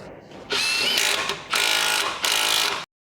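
Ratchet wrench tightening a 14mm nut on the stabilizer link of a Nissan front strut assembly, three bursts of rapid mechanical clicking, close and fairly loud, with no talking.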